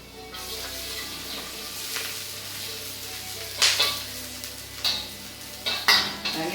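Garlic sizzles steadily in a hot pan while being stirred, with a continuous frying hiss broken by several louder scraping stir strokes near the end; no one speaks.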